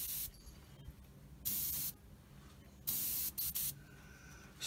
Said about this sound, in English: the moment has come to